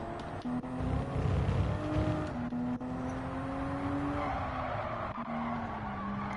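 Toyota Supra race car in a Gran Turismo 7 Toyota Cup race, its engine droning steadily and loudly with shifting tones as tires skid and scrub through a corner, continuous with no talk.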